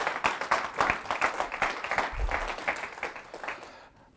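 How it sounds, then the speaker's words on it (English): Audience applause in a meeting room, a steady patter of clapping hands that fades out toward the end. "I ask everybody else to applaud that as well."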